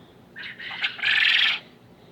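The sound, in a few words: roosters crowing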